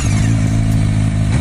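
A CFMoto 500SR four-cylinder motorcycle engine revs with a loud, steady, close-up drone, a deep layered growl held without a break.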